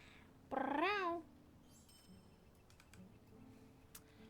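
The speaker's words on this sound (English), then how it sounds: "It's a kitty cat." A single cat meows once, a clear rising-and-falling call lasting under a second, close and loud, followed by faint ticking and quiet room noise.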